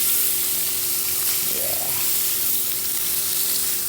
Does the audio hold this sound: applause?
no